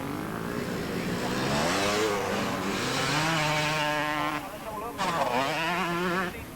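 A 125cc motorcycle at a beach race passes by with a high, buzzing two-stroke whine that rises and falls in pitch through repeated revs and gear changes, loud and close.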